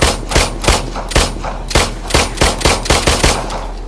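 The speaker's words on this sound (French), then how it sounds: "le pistolet c'est bien pour les petites bêtes" Rapid pistol gunfire in The Brookhaven Experiment, a VR shooter, with about a dozen sharp shots in a steady, quick cadence, loud and close, with no talking.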